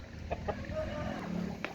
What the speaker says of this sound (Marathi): खाद्य या ठिकाणी टाकायची या तयारीमध्ये असल्यास कशा प्रकारे कोंबड्या एकत्र येतात पहा या ठिकाणी